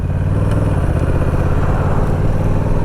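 A lawn mower engine runs steadily and loudly up close, a constant rough drone with slight clattering and no talking.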